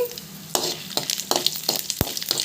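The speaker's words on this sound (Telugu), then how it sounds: "ఆవాలు జీలకర్ర పచ్చి శనగపప్పు మినప్పప్పు వీటిని వేగనివ్వండి" Mustard seeds, cumin, chana dal and urad dal frying in hot oil, a busy sizzle broken by repeated sharp pops and crackles of the seeds bursting, close and fairly loud with no voices.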